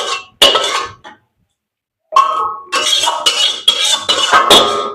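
Cooked cauliflower curry is poured out of a pan with clattering metal clinks and scrapes in several bursts, a brief pause, then a run of busier clanking close by.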